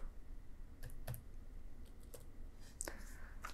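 Keys on a laptop keyboard are typed while entering a Windows powercfg battery report command: a few sparse, soft clicks over a faint background hiss, quiet and close.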